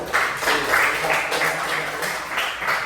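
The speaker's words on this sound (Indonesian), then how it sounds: "Oke, ya, tepuk tangan" Schoolchildren applaud in a classroom, steady rapid clapping from a group of hands close by, with some children's voices faintly mixed in.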